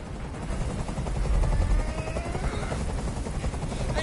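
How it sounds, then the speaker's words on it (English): A helicopter hovers in the Detroit: Become Human video game, its steady low rotor throb rising slightly midway and holding loud and close throughout, with sharp crackling bursts mixed into the drone. "I can't stand that noise anymore. Tell that helicopter to get out of here."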